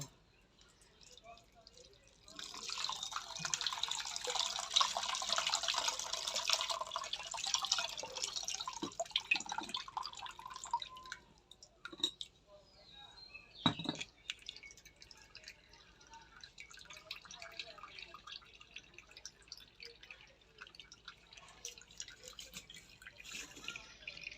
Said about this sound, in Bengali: এবার আমি ছানার একটু জল দিয়ে ধুয়ে নিব